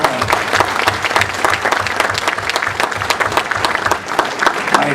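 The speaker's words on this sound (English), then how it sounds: "So give them a round of applause." An audience at a public meeting on the San Onofre nuclear plant applauds representatives of the Orange County Sheriff's Office, producing dense, continuous clapping from many hands at a steady level for the whole stretch.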